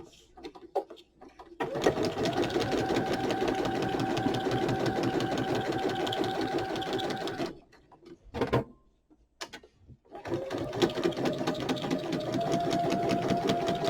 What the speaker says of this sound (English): I'm just going to do a straight stitch all the way around it.